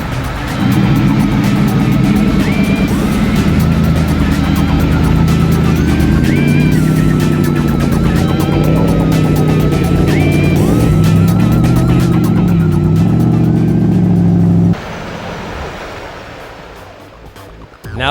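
Monster Vision 4x4 off-road vehicle with huge wheels, mud-terrain tires, heavy weight and a powerful engine climbing a steep exit, its loud engine roaring and revving steadily before cutting off abruptly near the end.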